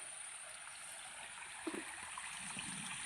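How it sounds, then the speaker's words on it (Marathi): A small river stream flows with a faint, steady rushing wash throughout, with a few soft splashes. "म्हणजेच नदी ही आहे छोटीशी"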